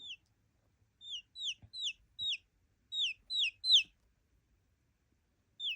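Repeated high, thin peeps in quick bursts of two or three from young Bielefelder chicks, fairly quiet and close, with pauses between bursts.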